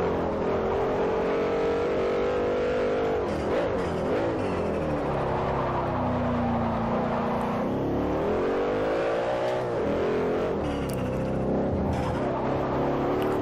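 Gumpert Apollo race car in Forza Motorsport 4 spinning its wheels, engine roaring loud and steady with pitch rising and falling through several revving surges, no talk.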